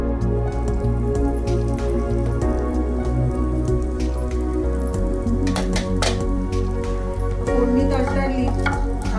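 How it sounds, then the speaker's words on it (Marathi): Asafoetida and mustard seeds sizzle and crackle loudly in hot oil, a Goan tempering for mango raita, with a steady dense spatter, sharp pops and stirring scrapes throughout. "आता आपण ह्याच्यात हिंग आणि राईची फोडणी देणार आहोत"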